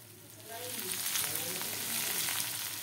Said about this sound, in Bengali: ভালো করে উচ্ছেগুলো আমি নেড়ে নেড়ে ভেজে নেব।